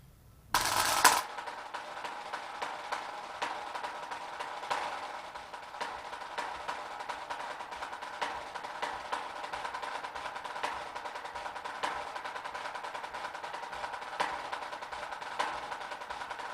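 Snare drum played with a smooth legato flow of buzz strokes broken up by crisp single notes, a steady rolling rasp with regular accented taps, close and alone after a brief loud hit at the start.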